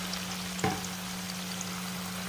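Eggs lightly stirred as they fry in a pan, a steady soft sizzle with a faint utensil scrape partway through and a low steady hum underneath.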